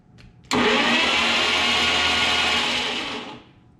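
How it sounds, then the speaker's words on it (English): A 1948 Studebaker's 6-volt starter running on 12 volts, kicking in abruptly and zinging at a loud, high, even whine for about three seconds before winding down, close up with no talk. "You hook a 6-volt starter up to 12 volts, they really zing."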